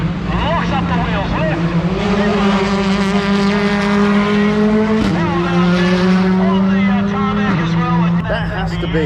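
A rally car blasts through the Otago Rally stadium super special in the city centre, a loud, close engine howl with rising and falling gear pitches and a sudden shift midway as the wheels lock under braking.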